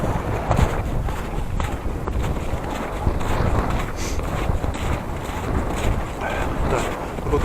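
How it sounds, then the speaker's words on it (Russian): A strong wind blows outdoors during a walk, buffeting the microphone with a loud, continuous, gusty roar that barely lets up. "Да, погодка вроде хорошая, но ветер, конечно, приличный."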